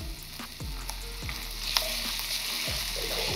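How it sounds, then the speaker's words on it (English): Chicken mince sizzles and fries steadily in a hot pan for a chicken curry udon, a loud continuous crackle with a few scraping stirs, no talking. "get my chicken mince in here as well"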